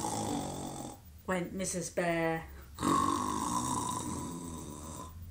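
A storyteller's voice imitates Mrs. Bear's snoring in a children's bedtime tale, with two or three drawn-out, rumbling snores between short spoken words.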